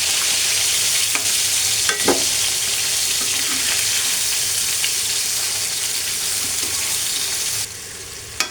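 Rohu fish fries in oil in a pan, a loud, continuous close-up sizzle with a few clinks and scrapes of a spatula as the pieces are turned.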